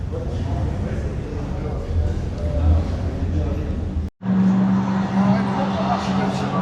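GT race cars leave for the track at the Magny-Cours circuit during a classic car event, their engines a loud steady roar with a brief cut partway through, followed by a strong low drone and voices underneath.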